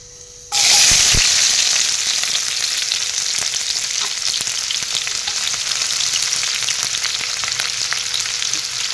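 Chopped onions hit hot oil in a heated kadai and burst into a loud, steady sizzle that holds strong without pause, close and alone with no talk over it.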